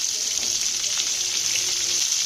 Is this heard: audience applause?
no